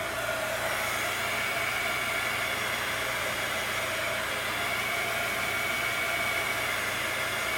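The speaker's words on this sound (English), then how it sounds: "It's just drying the outer coat so that hopefully if I put my hand in it, it won't completely smudge it." A heat tool drying paint on a mixed-media art journal page gives off a steady, loud, close whooshing blow of hot air that runs unbroken throughout with no talking.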